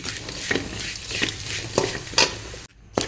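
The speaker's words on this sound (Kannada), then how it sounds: "ಇದು ಬೆಲ್ಲ ಹಾಕಿ ಚೆನ್ನಾಗಿ ಮಿಕ್ಸ್ ಆಯಿತು" A spoon stirs jaggery into a sizzling chickpea and carrot mixture in a pan, with rhythmic scraping strokes over a steady fry, then a sudden brief quiet before one last scrape.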